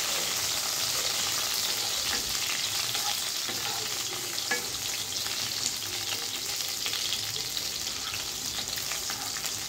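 Chopped onion with garlic frying in hot oil in a pan, a steady close sizzle with occasional stirring clicks throughout, no talking.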